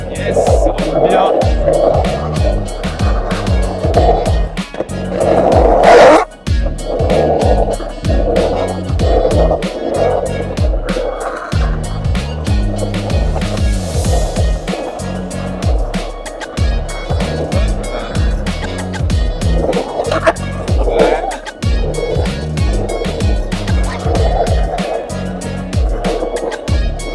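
Skateboard wheels roll continuously over the bumps and berms of an outdoor pumptrack at the Isola 2000 mountain resort, a steady close rumble with surging swells as the board pumps through the track.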